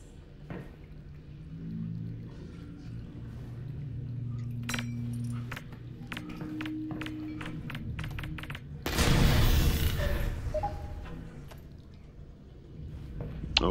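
A grenade goes off in Half-Life: Alyx, one loud close blast with a rumbling tail, preceded by clicks, rattles and scattered impacts over low ambient hum.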